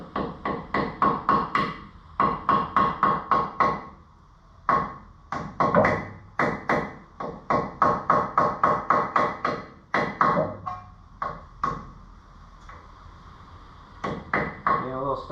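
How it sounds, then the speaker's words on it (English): A hammer taps metal on a Mega Cab truck coil lift in quick rhythmic bursts of several strikes, pausing between rounds, sharp and close with ringing clinks. "now with the bigger hammer, let's see if we can love tap it in"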